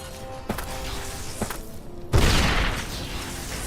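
Flashbang grenades go off in the Fallout: New Vegas video game as a few sharp thumps, then one big loud blast that leaves a broad, noisy rumble trailing off over steady background game sound.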